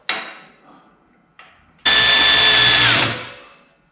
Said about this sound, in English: Your number 45 Torx driver.